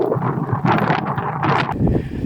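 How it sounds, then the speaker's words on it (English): Strong gusts of wind batter the microphone at an outdoor vanlife campsite, making loud, uneven buffeting and rustling bursts close up, with no voices heard. "Although it's very windy."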